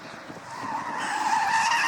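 Drift car tyres skidding, a sustained rising screech that grows louder and more strained over its short length.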